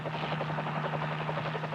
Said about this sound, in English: the helicopter is coming down on the landing place, which is called a heliport